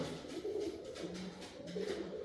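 Pigeons about five months old coo in soft, repeated low throaty rolls, fairly close but quiet, with a faint background hiss and no voices.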